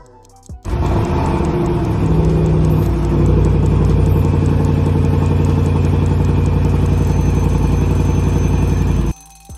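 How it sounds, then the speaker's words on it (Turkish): A Range Rover Sport SVR engine starts and runs loud and close, a deep burbling idle that holds steady for several seconds before cutting off abruptly. "Range Rover Sport SVR sesi dinlediğiniz otomobildir."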